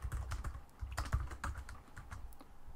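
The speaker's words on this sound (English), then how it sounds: "You can type a message" Quick, light clicking of computer keyboard keys as a message is typed, steady irregular taps fairly close and quiet, with no talking.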